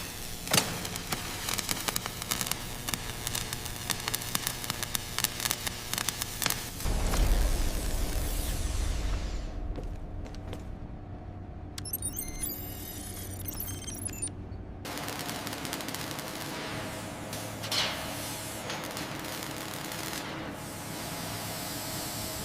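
Plasma cutting and welding on an old abandoned truck: rapid crackling, buzzing bursts give way to a deep rumbling roar, then a brief high sizzle, then steady harsh crackling again, all loud and close.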